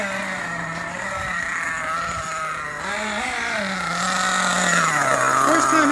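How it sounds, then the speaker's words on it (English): A Losi 8IGHT nitro RC car engine running during break-in, a buzzing, close two-stroke whine that rises and falls in pitch as the throttle shifts, growing slightly louder toward the end. "I adjust the low speed until she can idle on herself. With the brake on, you want it to idle."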